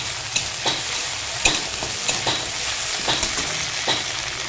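Garlic paste and ginger paste stir-fried with spices in a pan, a steady sizzle broken by scattered scraping and stirring strokes, close and moderately loud with no talk.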